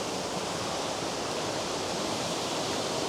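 Lower Campsie Falls pours in a continuous, even rush of falling water, a broad steady roar with no pauses or voices.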